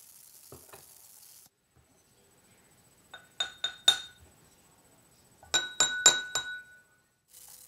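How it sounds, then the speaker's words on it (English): Musical drinking glasses struck in two quick runs of ringing, bell-like clinks, three then five tones, clear and close, with short quiet gaps and faint background noise between. "I'm so glad you got a chance to play with these musical drinking glasses at home."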